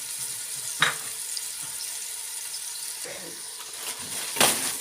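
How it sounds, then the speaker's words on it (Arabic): Onions sautéing in a pan: a soft, steady sizzle sits low beneath a few sharp scraping knocks of a utensil stirring against the pan, quiet and close with no talk. "وتعالوا ننزل بيه في البصل. وهنقلب فيه، احنا مش هنحمره بس هنشوحه شويه."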